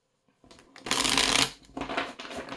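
Belline oracle cards being shuffled by hand, a dry papery riffle and slide that starts after a brief pause and runs in two close, fairly loud bursts with no talking.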